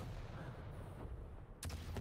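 In the Quake Champions arena shooter, a gunshot strikes a wall with one sharp, loud crack late in the passage, following a low rumbling in-game background.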